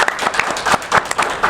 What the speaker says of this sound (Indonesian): Tepuk tangan dulu, guys.